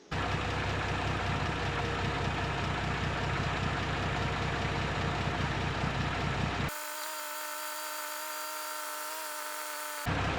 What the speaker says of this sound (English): This lever tilts the machine.